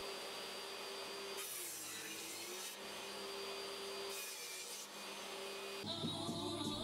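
A table saw cuts dense oak blocks to width in several passes, its steady whining roar rising and dropping between cuts, close and loud with no talking.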